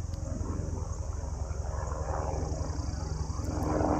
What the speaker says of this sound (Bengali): হেলিকপ্টার যাচ্ছে কেদারের পথে